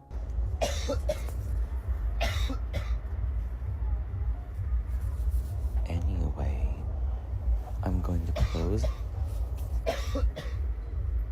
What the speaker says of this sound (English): You know what would help that guy kill that cough?